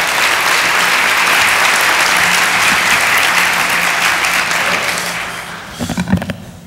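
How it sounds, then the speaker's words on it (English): A crowded room's audience claps steadily for elected officials at a downtown civic event, dense and sustained, tapering toward the end with a few louder near claps. "Let's give all the elected officials a round of applause."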